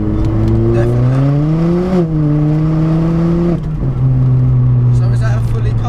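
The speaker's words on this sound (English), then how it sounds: "So is that a fully custom exhaust?" A Ford Fiesta with a custom exhaust idles with a deep, steady drone, rising briefly as the revs climb and then settling. The sound is loud and close, with voices talking over it.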